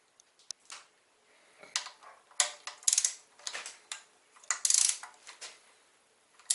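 Clicks and ticks from a torque wrench tightening oil cooler bolts in a crisscross pattern on an MK4 1.8T engine, heard as sparse, uneven bursts of close metallic clicking with quiet gaps between them.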